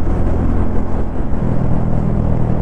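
A 2024 Royal Enfield Classic 350 motorcycle cruising in third gear, its steady low engine thump and road rumble continuous and close throughout, with wind noise over it.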